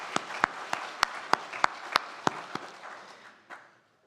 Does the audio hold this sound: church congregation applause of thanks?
yes